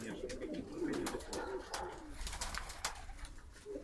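Baku broad-tailed pigeons, large domestic birds, coo steadily up close in a soft, low, continuous murmur with a little background noise.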